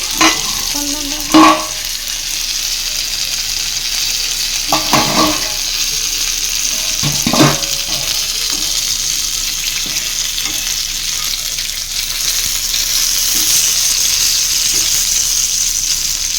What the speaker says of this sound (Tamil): எண்ணெயில் போட்டாச்சு மீனை.